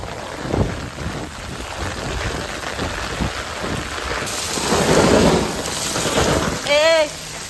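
Heavy monsoon rain pours loudly, with low thunder rumbling beneath it. The downpour swells toward the end, and a brief voice cries out near the close.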